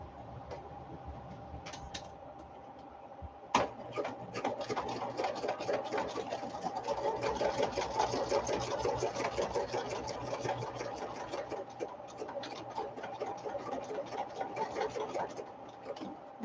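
A sewing machine with a larger needle stitches together vinyl fabric sides of a sewing container, running in a steady rapid mechanical chatter after a brief start, close and clear with no talk.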